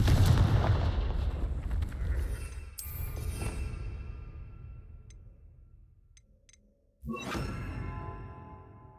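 Confringo blasting spell cast in Hogwarts Legacy, a loud booming burst at the start that rumbles and fades over several seconds, then a second sharp blast near the end, with no voices.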